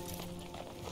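Horse hooves clop steadily in the video game Red Dead Redemption 2, a faint, muffled rhythmic walk layered under a dense game soundscape.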